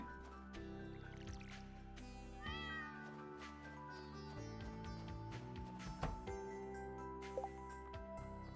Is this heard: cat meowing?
yes